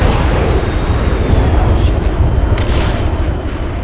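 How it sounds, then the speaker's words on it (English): Heavy machine gun fire in the military shooter Arma 3 rumbles as sustained, loud, booming bursts, with a continuous low thunderous roll and a few sharper cracks layered on top. "Is that heavy machine gun?"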